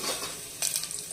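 Mustard seeds, cumin and curry leaves sautéing in hot oil for Kathiyawadi kadhi, a short burst of close sizzling with a few quick crackles and spits.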